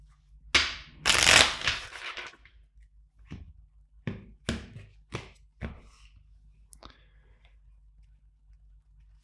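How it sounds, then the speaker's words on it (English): A quick riffle shuffle of tarot cards, a short burst of flutter, then a handful of soft taps and snaps as the deck is squared up. "Let's shuffle three more times."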